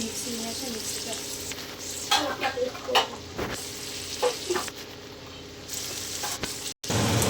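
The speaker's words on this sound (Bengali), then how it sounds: "আর এদিকে আলু পেঁয়াজ সব ভাজা হচ্ছে লবণ দিয়ে, যাতে তাড়াতাড়ি ভাজা হয়ে যায় তেলের মধ্যে।" Potatoes and onions frying in oil with salt for a chicken curry, a steady close sizzle with scraping and stirring strokes through the middle, and a brief sharp clatter near the end.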